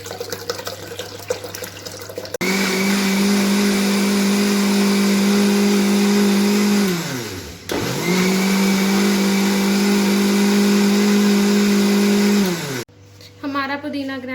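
A kitchen blender grinding mint leaves with water, black salt and syrup for nimbu pudina sharbat, a loud steady whir running about ten seconds with a brief dip in speed midway, then stopping.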